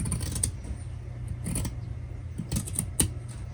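Scissors snip through fabric along a marked line while a fabric pouch is being made, a few quiet crisp cuts in short bursts separated by pauses, close and soft.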